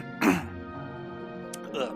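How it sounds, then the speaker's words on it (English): A single throat clearing close on a microphone during a Dungeons & Dragons session, a short rough burst followed by quieter room tone and a faint second rasp near the end. "Sorry for clearing my throat on mic."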